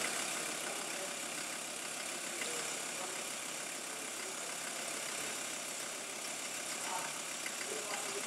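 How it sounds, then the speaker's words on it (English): A diesel engine runs steadily nearby during an intake cleaning treatment, with a rough, constant rumble, and faint voices can be heard beneath it. "So you can hear the engine note changing."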